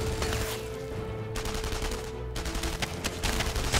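Bursts of rapid gunfire crackle repeatedly, like automatic weapons in the shooter game Enemy Front, loud and continuous with brief pauses between volleys.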